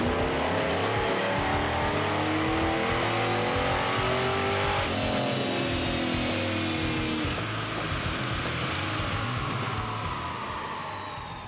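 A 1978 Pontiac Trans Am engine revs hard on a dyno during a power pull, a loud sustained roar climbing steadily in pitch before easing off at the end.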